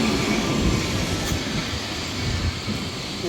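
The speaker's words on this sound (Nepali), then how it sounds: "यो चाहिँ टुरिस्टलाई घुमाउने सानो ट्रेन जस्तो है लिस्बनमा।" A small electric tourist train rolls along a Lisbon street, its steady loud rumble and rattle filling the scene close by, with a faint squeal of wheels and no talking.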